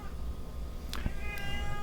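A cat gives two short, clear meows close to the microphone over a low steady background hum.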